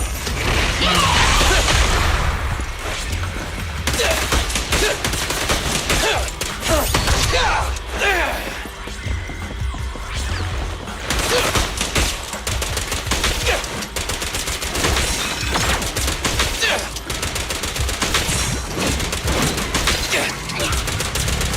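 Dense, loud gunfire in the action game Zenless Zone Zero, with rapid bursts of shots, booms and whooshing combat effects throughout and brief character voice lines in between.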